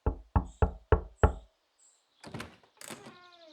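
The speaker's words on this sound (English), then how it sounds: "let's knock on his door" Five firm knocks on a front door in a steady rhythm, close and loud, followed by softer rattling and a sliding or creaking door sound as it opens.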